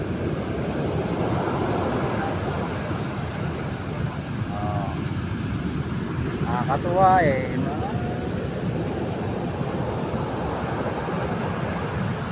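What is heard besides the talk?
ocean waves crashing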